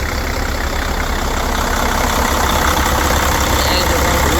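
A Mercedes OM460LA diesel engine with a bad water pump idles loudly and steadily up close, a continuous low rumble with blow-by noise and no pauses.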